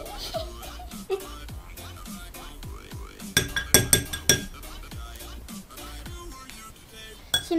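A yogurt and corn starch slime mixture being stirred in a bowl, giving repeated clinks and scrapes of a utensil against the dish, with a short burst of sharper clatter midway and a voice talking in the background.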